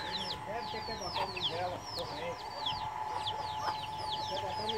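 Chickens and a rooster clucking on a farm, with repeated close, busy clucks and chirps from several birds over a low hum.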